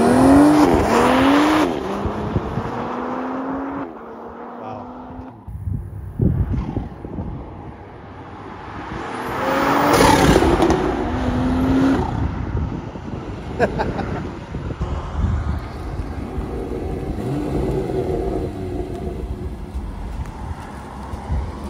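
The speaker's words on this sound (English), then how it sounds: "So that's sport mode, stock exhaust with just the catalyst downpipe." A Toyota Supra in sport mode with stock exhaust and a catalyst downpipe, running E85 with an aftermarket intake and JB4 tune, revs and accelerates hard, engine rising and falling through several surges, with wind buffeting the microphone.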